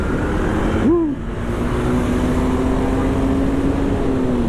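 A tourist bus passes along a road: a brief bending horn-like tone rises early, then a steady engine drone holds for the rest of the pass, fairly close and loud.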